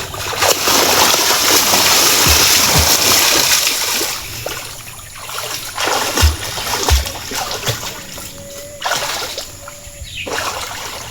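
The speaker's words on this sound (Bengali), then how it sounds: "আমি এখানে ডুব দাম আর সুঙ্গাটা নিয়ে আনো।" A person dives into water in a village to retrieve a bamboo trap used for catching snakehead fish; repeated splashes and sloshing water churn up close, with some brief louder plunges along the way.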